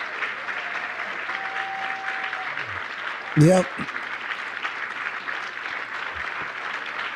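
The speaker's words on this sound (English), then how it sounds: "These people are clapping for good on you." Sustained crowd applause fills a gathering at a prophetic ministry event, steady and broad throughout, with a voice speaking briefly over it and a short louder burst near the middle.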